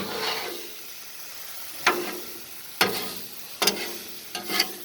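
Potatoes sizzle on a Blackstone griddle as eggs are poured in and stirred; a soft frying hiss runs under several sharp scraping strokes of a spatula, spaced about a second apart.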